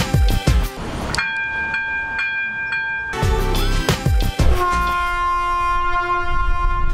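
A train passes a level crossing near Prostějov, with its horn sounding in repeated loud, sustained blasts over the rumble of the rolling cars, and one final long horn blast holding to the end.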